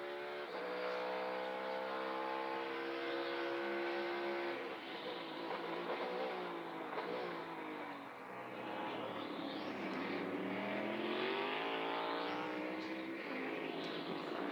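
NASCAR Cup Series race cars lap the EchoPark Grand Prix road course in practice, with onboard engine sound loud and continuous, rising and falling through sequential gear changes and corners.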